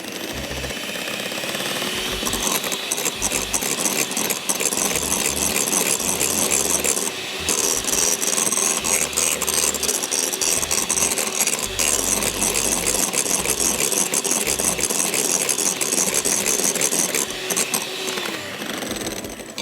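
Electric beater whipping ingredients for Asian orange chicken in a kitchen, a loud, steady, rattling mechanical whir running continuously and close by, with no talking.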